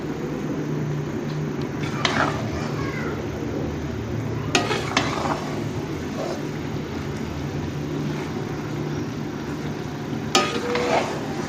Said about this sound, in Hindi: और चावलों को गुड़ में अच्छे से मिक्स कर देंगे हम।